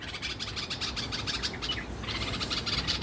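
Bulbuls chirp and call outdoors around a fledgling learning to fly, with rapid repeated high tweets over a dense, noisy background.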